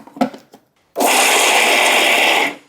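Electric mixer grinder coarsely grinding garlic, ginger, coriander and salt without water, a loud, steady whirring burst of about one and a half seconds after a few brief knocks, then stopping abruptly.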